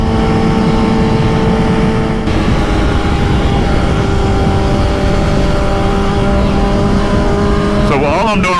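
A motorcycle on Dunlop Q4+ tires ridden through corners on roads around DC, with continuous loud engine drone, shifting tones and heavy wind buffeting, and a rider's voice talking over it.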